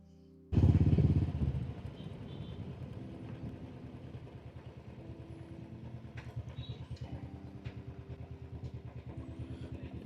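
A motorcycle pulls up at a toll point on a hill road to Kotappakonda temple, its engine revving loudly on arrival and then settling into a steady, close idle putter.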